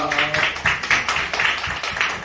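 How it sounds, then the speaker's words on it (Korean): Audience clapping at a church media mission broadcasting station opening, a steady run of hand claps close and fairly loud, mixed with a few faint voices. "박수 한번 주시기 바랍니다."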